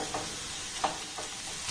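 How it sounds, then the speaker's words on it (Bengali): Soft sizzling of egg frying and being scrambled in a pan, with a few light scrapes of a spatula at irregular intervals. "এবার ডিমটাকে আমি একটু ভাজা ভাজা করে নেবো"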